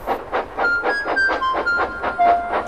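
Train in the rail yards, a rhythmic chuffing at a steady pace with a faint whistle-like tone running through it, moderately loud and with no talk over it.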